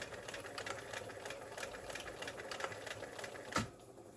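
Bernina 930 sewing machine running its mechanical basting stitch, a rapid even mechanical chatter of needle strokes, close and moderately quiet, ending with a sharper knock.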